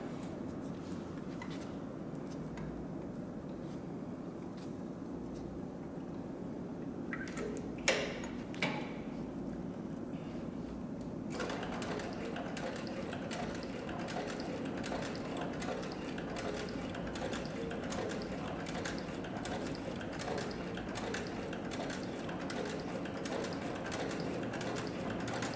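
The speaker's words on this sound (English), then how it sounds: "the Cowboy CB3200 can also sew lighter weight materials, and so we're going to demonstrate that on 3 layers of approximately 3 ounce tooling leather" Cowboy CB3200 sewing machine stitching through three layers of roughly 3-ounce tooling leather: a steady mechanical whir with rapid ticking needle strokes, quieter at first and then running louder and continuously for the final half, with no voices.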